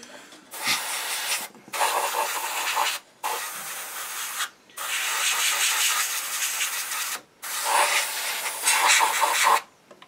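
Airbrush spraying in six bursts of steady, close hiss, each about one to two seconds long, separated by short silent pauses, while painting a Tamiya SU-76M scale model.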